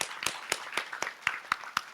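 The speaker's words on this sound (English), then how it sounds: "let's give her a round of applause" A small audience claps in a steady, evenly spaced rhythm, about eight distinct claps standing out over a faint spatter of other hands, fairly quiet and with no talking.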